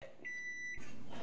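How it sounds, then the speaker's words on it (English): A microwave oven finishing its cycle, with a single steady electronic tone lasting about half a second, heard close and alone before a burst of louder noise. "when the microwave is finished"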